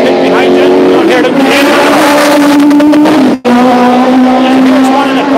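Race cars run in the pit lane at Mondello race track, loud and close, with a strained engine note rising in pitch, a brief cut, then a steady drone, while voices talk over it.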